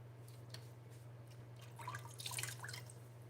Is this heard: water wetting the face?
yes